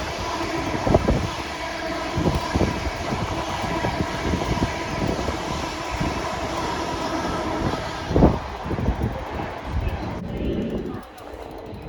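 A Class 800 IET passes at Acton Main Line on the Great Western Main Line, giving a loud, sustained rolling rumble that eases off near the end.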